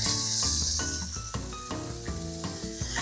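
Lean ground beef sizzling in olive oil in a pan, a steady bright hiss that continues under a louder tonal melody, with no talk.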